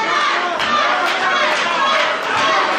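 Arena crowd at a professional wrestling steel cage match, a dense, loud and steady wash of cheering and chatter with voices overlapping throughout, swelling briefly in places.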